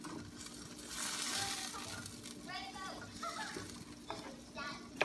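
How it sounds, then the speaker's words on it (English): Chicken asado being stirred in a hot pan, a steady soft sizzle with scraping as it is mixed, fairly faint, with a voice talking in the background. "We'll mix it. Give it a good stir."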